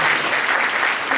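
Audience applause at an anti-drug clean India campaign event, a dense steady clatter of clapping filling the whole moment at moderate loudness.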